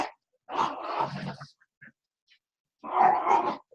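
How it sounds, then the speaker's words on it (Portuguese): A small pet dog named Yoda gives two short bursts of low barking and growling vocalisations, close by, with a quiet pause between them. "Desculpa, gente, o cachorro aqui, latindo."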